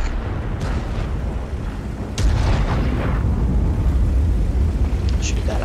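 World of Tanks battle with a Tiger II: a muffled cannon shot and explosion boom out, then heavy rumbling engine and battle noise continue, with faint voice chat mixed in.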